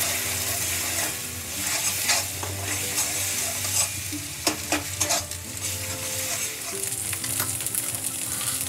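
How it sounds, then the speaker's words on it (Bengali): An egg frying with salt in hot oil in a kadai, scrambled into crumbly bits, gives a steady close sizzle broken by sharp scraping and clinking strokes of a spatula against the pan. "নুন দিয়ে ডিমটা ভেজে তুলে দেবো।"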